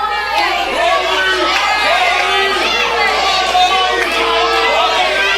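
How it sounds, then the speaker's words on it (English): Wrestling crowd at an independent show reacting with mixed cheers and chatter, a dense, steady wash of many voices including children's shouts, loud and continuous throughout. "Mixed reaction here from the crowd."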